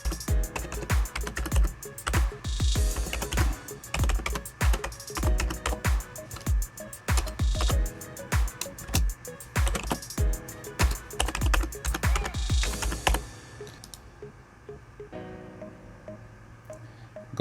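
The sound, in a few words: typing an email address on a computer keyboard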